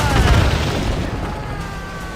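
A sailing ship in Assassin's Creed Rogue takes a cannon hit, a loud close boom that rumbles heavily at first and then fades into a lingering, dwindling roar.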